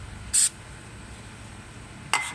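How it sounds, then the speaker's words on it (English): WD-40 penetrating oil sprayed from a can onto a rusty part of a Nissan X-Trail, giving two short, close hissing bursts separated by a quiet pause. "So now we have to spray the WD-40 penetrating oil."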